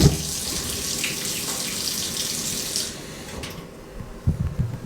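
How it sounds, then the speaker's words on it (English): A hot water tap in a flat in Zagreb, Croatia, runs steadily in a broad, bright hiss for about three seconds, then fades to a quieter trickle with a few soft knocks near the end. "And then turn on the hot water."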